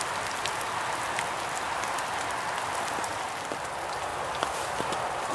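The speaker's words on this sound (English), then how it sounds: "it's still raining" Steady rain falls outdoors, a dense continuous patter of drops on surfaces with a few sharper nearby drips standing out, no voices.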